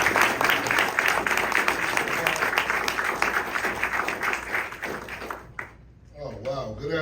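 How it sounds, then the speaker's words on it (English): Audience applause at a Philadelphia announcement event with labor union members, a dense steady roar of many clapping hands filling the room for several seconds, then fading out as a voice begins to speak near the end. "Give him a round of applause."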